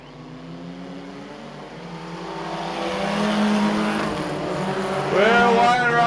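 Junior sedan race cars racing at Kingaroy Speedway, a distant engine drone swelling as cars pass and rising to a revving pitch sweep near the end, with a commentator talking over it.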